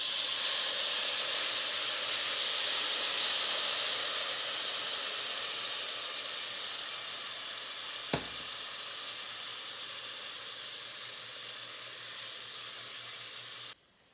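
Cardamom-flavoured syrup hits hot, lightly browned semolina in a pan and sets off a loud, hissing sizzle that slowly fades. A single brief click sounds partway through, and there is no talking.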